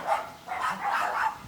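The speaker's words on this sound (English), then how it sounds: "another dog." A dog barks in a quick run of several sharp, close yips and bow-wows over about a second and a half, loud and alone with no talk over it.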